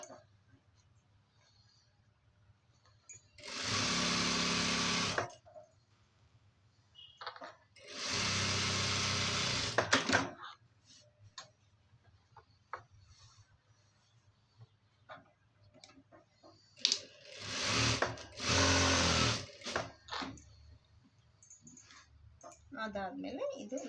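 A sewing machine stitching along the edge of fabric runs in three separate loud whirring bursts, each a few seconds long, with quieter handling and rustling in between.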